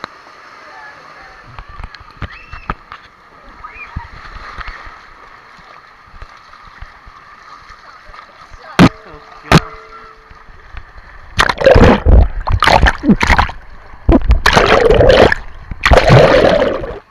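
Water splashes and sloshes in an outdoor swimming pool, in several loud bursts that follow a quieter stretch of gurgling and faint background sound.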